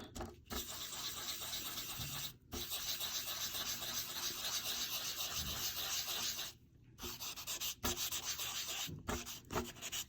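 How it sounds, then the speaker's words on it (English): Chalk pastel rubbed into paper by hand, a close, continuous scratchy friction that runs in long strokes with a few brief pauses and no speech. "I'm going to try to rub it in so that I get rid of all of the white areas"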